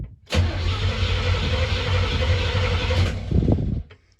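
A 1985 Oldsmobile engine cranks over with the ignition switched off, a loud, steady, rhythmic churning of the starter that runs about three seconds and then stops. A few brief clunks follow.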